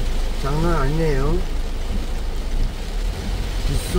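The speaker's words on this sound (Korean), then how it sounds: "빗소리가 장난 아닙니다." A heavy monsoon downpour drums on a moving car on the road from Gimpo toward Incheon. The steady roar of rain continues under a man's brief speech near the start.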